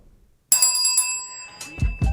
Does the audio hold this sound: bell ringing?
yes